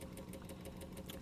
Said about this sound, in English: We're running the engine lovely.